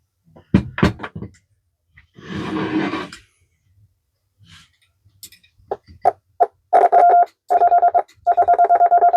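Sharp electrical clicks and tapping from a 1922 Vibroplex "Martin Junior" telegraph key, then a steady beeping tone keyed in short repeated bursts, sounding out a signal.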